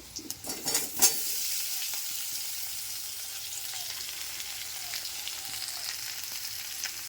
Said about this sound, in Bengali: ভালো করে কষিয়ে নিলাম তরকারিটা আমি